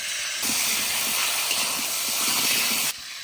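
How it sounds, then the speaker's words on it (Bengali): Potatoes frying in oil left over from frying fish, a dense continuous hiss that swells in and holds steady for a few seconds before dropping away, close and fairly loud with no talk. "এবার এই মাছ ভাজা তেলে আলু ভেজে নেবো"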